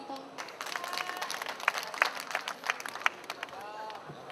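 Applause from an audience gathered at a candlelight memorial vigil for Sewol ferry victims, with Gwangju university students and citizens; scattered, fairly distant clapping with crowd murmur and voices mixed in throughout.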